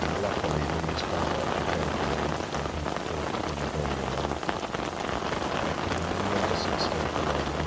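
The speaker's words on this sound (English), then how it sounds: "this occasion got torrential rain as soon as we got down to the stream" Torrential rain pours down beside a stream, a steady dense hiss and patter of drops on surfaces that holds constant throughout with no break.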